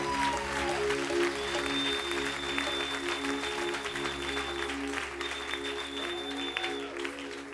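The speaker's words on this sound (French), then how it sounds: "Est-ce qu'on peut bien acclamer le Seigneur Jésus?" Congregation clapping steadily in church throughout, a dense sustained wash of applause with a held musical tone underneath.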